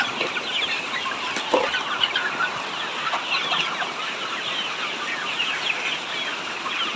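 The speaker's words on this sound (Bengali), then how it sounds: "মুরগিগুলো কীরকম করতেছে খাবারের জন্য" Several hungry chickens cluck steadily for food at close range, with broadband noise of rain falling outside throughout and a few brief rustles, no talking.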